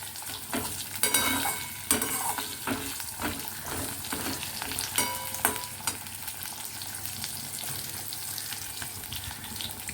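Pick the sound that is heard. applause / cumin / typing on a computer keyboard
cumin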